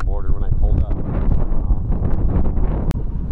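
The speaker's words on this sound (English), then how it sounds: "A little windy to be out boating today." Heavy wind buffets the microphone, producing a constant low rumble that runs loud through the whole stretch with no break.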